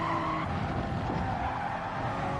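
Tires skidding and squealing under late braking in a racing game, a steady tire scrub lasting a couple of seconds alongside engine noise, moderately quiet and with no talk.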